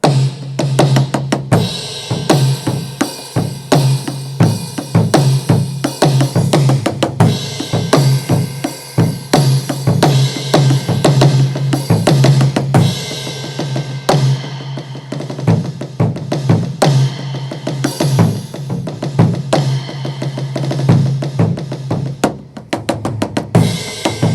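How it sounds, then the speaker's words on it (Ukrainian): A full worship-style drum kit plays a steady, driving groove with punchy kick and snare hits and washing cymbals, loud and continuous throughout. "Це такі воршіп барабани звучать вони ось так."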